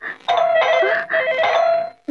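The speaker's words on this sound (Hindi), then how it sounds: "टेलीफोन की घंटी बज रही है।" A telephone bell rings loudly and close by in two long ringing bursts separated by a short gap.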